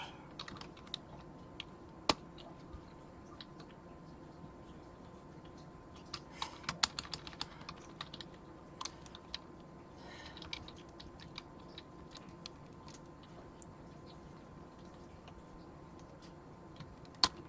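Quiet, irregular typing on a computer keyboard while editing configuration files in Emacs, soft key clicks in scattered bursts with occasional sharper taps over a faint background hum.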